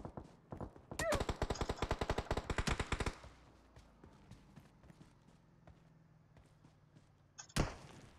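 Automatic rifle fire in PUBG Mobile, a two-second burst of rapid evenly spaced shots preceded by a few single rounds, then quiet ambience and one more loud shot near the end.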